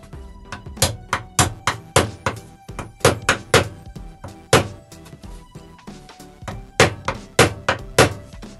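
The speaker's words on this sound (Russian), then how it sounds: "И будем забивать сейчас наш напильник." An old steel file is hammered into a wooden handle, a steady series of sharp, close knocks in irregular bursts of two and three strikes, with no talking.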